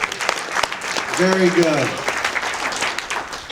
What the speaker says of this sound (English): Give the body shop a big round of applause, everybody.